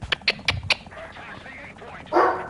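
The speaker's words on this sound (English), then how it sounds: "It is way too late to be barking at nonsense outside." Indoor dog barking late at night, four quick sharp barks in a row near the listener, followed by quieter sounds and a short burst of noise at the end.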